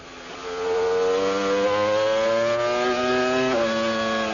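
Heinz-Harald Frentzen's Formula 1 car at the 1998 Spanish Grand Prix, accelerating loudly into the first corner. Its engine whine climbs steadily in pitch, then drops abruptly at an upshift and climbs again.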